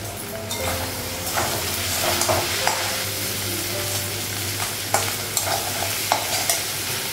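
Spiced masala sizzles and fries in a home kitchen pan, with a spoon stirring through it and scraping the pan in repeated clinks and scuffs over a steady low frying hiss.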